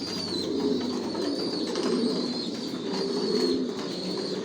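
Racing pigeons coo steadily inside a loft, several birds overlapping in a dense, continuous murmur at close range, with faint higher chirps now and then and no talking.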